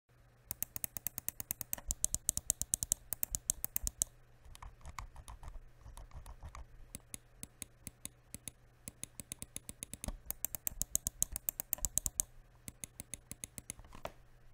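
Rapid bursts of crisp clicking from a JeteX MSX3 gaming mouse's buttons, tapped in quick rhythmic runs with short pauses, close and distinct against a faint hum.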